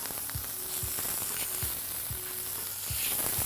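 Onion drops into a hot pan with garlic-ginger paste and Indian five-spice and sizzles quietly and steadily, with soft periodic thumps of stirring underneath and no speech.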